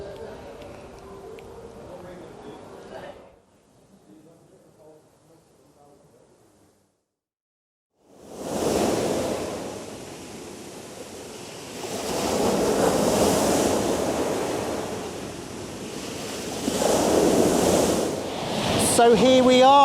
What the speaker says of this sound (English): here we are on Gyllyngvase Beach, or Gilly Beach as the locals know it as, with some waves, some dramatic waves actually